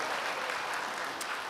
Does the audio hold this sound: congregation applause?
yes